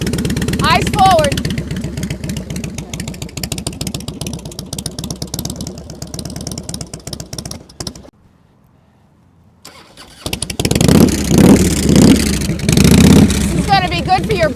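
A motorcycle engine held at high throttle during cool-weather riding practice, a loud steady rumbling drone that drops out briefly to near silence and then returns strongly, with people talking over it.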